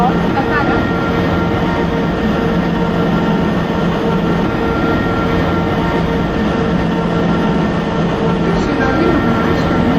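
A Mumbai local train at Masjid station, simulated in the MSTS Open Rails game, makes a loud steady rolling rumble that continues unchanged for the whole stretch.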